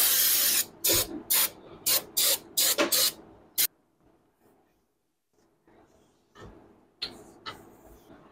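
Brake cleaner sprayed onto a Nissan Titan brake rotor in a garage: a rapid series of about eight loud, short aerosol hiss bursts up close, followed by quiet and a few fainter later sprays.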